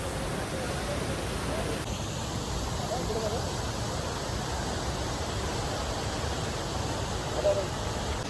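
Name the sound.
Mormarewadi waterfall near Kamshet, Pune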